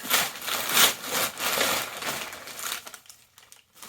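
Wrapping paper crumpled and torn open on a gift, with close, loud crinkling and rustling that fades out near the end.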